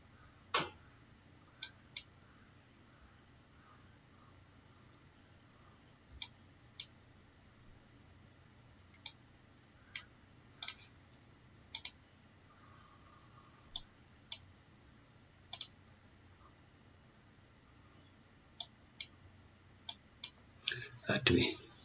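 A computer mouse clicks in sharp, isolated taps spaced irregularly across a quiet background, then a quick flurry of clicks near the end, close and crisp.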